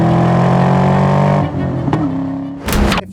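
A 1996 Ford Mustang SVT Cobra with the 4.6 V8 and five-speed manual pulls hard on a test drive, its loud engine note dropping through a gear change before revving up again.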